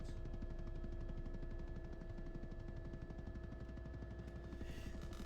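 Rapid, sustained machine gun fire from a helicopter's guns in the video game BattleBit, a loud continuous rattle of closely spaced shots running the whole time.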